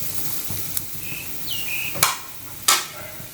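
Coconut, cardamom, cinnamon, cloves, cashews and fennel being dry-roasted and mixed in a pan, a soft sizzle broken by a few sharp scrapes and knocks of the spatula against the metal, with no voices.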